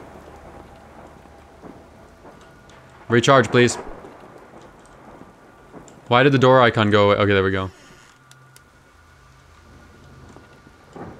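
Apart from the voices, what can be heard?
thunder and rain in the video game Kraven Manor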